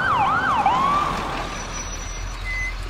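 An ambulance siren arrives with a loud wailing tone that sweeps up and down, then fades into a rumbling vehicle and background noise.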